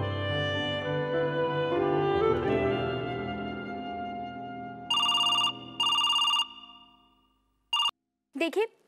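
A telephone rings in repeated electronic bursts, two long rings followed by shorter ones, coming in after a stretch of background music as part of a prank call in a TV drama.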